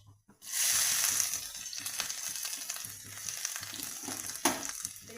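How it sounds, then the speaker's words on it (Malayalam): Chopped ginger and garlic hit hot oil with a sudden, bright sizzle that swells and then settles into steady frying crackle, with a few stirring clicks and no talking. "ഇനി നമുക്ക് നമ്മുടെ ഇഞ്ചിയും വെളുത്തുള്ളിയും ചോപ്പ് ചെയ്ത് വെച്ചേക്കുന്നതിടാം"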